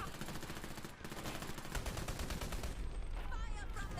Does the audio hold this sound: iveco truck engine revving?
no